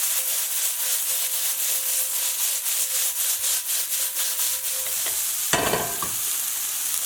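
Sesame chicken pieces sizzle steadily in a hot pan, with soft scraping as they are turned. Near the end comes a sudden loud clatter and scrape as the pieces are flipped.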